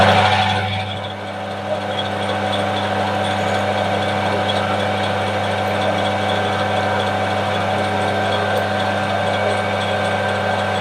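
Brass valve rod being drilled on a lathe at 700 RPM with a little oil, giving a steady, continuous machine hum and whine with faint mechanical ticks throughout, close and even in level, with no talk.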